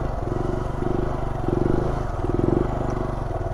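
A Honda Grom motorcycle idles with the idle raised during tight circle wheelies in a stunt lot, a steady close putter with a slightly pulsing rhythm that swells a little as it rolls, heard alone without talk.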